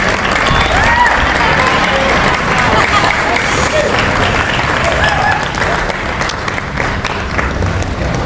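Audience at a motivational school event breaking into sustained applause, dense clapping from a crowd that holds steady throughout with voices mixed underneath.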